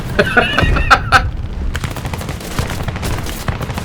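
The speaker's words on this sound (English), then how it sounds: "Ow, ow, stop shooting me. There's like 5 of you on me." Rapid machine-gun bursts in the air-combat game War Thunder, loud and crackling over a constant low engine rumble, with the densest volleys in the first second and a steady rattle of hits afterward.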